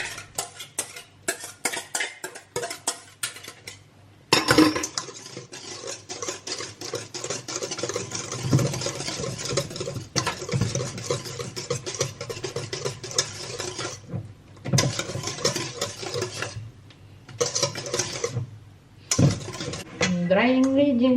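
A utensil scrapes and clinks steadily against a bowl as banana cake dry ingredients are mixed, with brief pauses between stirring runs and talk now and then.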